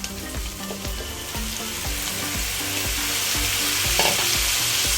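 Tomatoes go into a pan of caramelized onions for a pork tomato soup, sizzling and frying loudly and steadily at close range while a utensil stirs and scrapes in a repeated rhythm.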